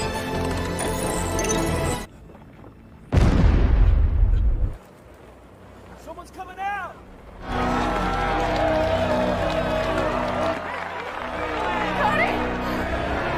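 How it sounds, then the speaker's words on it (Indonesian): A loud, booming explosion from a film scene at a mine, a short heavy blast followed by falling debris, sitting among crowd chatter and shouting. "sebuah ledakan terjadi"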